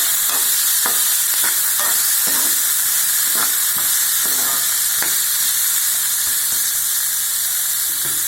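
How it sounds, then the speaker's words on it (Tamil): Pumpkin pieces sautéing in a pan for a chickpea gravy, with a loud, steady sizzle and a series of regular spatula scrapes and stirs close by, and no talk. "இப்போ பரங்கிக்காய் போட்டாச்சுங்க. லேசாக 2 வதக்கு வதக்கலாம்."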